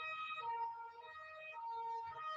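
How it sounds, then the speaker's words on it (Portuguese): An ambulance siren passing outside, its two-tone wail rising and falling in a steady alternating pattern, heard indoors at moderate distance with no one talking. "óbvio que ia passar uma ambulância no meio da gravação"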